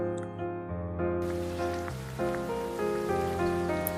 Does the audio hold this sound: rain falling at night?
yes